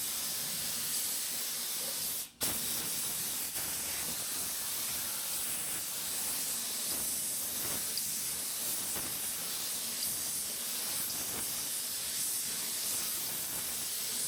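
A spray gun lays a coat of clear on car bodywork with a continuous, close airy hiss that holds steady throughout, broken by one sharp click early on, with no voices.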